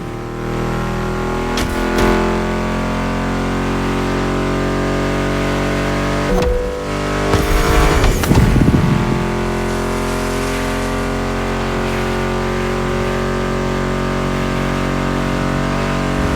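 Car engines drone and rev in the racing video game The Crew Motorfest, a steady sustained roar that surges louder for a few seconds midway, blended with background music.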